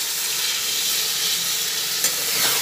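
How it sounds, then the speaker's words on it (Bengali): Eggplant pieces fry in an oiled pan for kasundi eggplant, giving a steady, loud sizzling hiss with a soft scrape of stirring partway through. "ভেজে নিই। এরপরে নাড়াচাড়া করতে করতে বেগুনগুলো যখন নরম হয়ে এসেছে"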